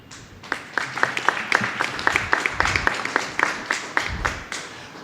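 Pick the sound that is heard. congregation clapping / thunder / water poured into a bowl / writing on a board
congregation clapping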